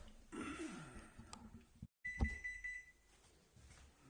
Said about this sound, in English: the oven just beeped at me, telling me that it is ready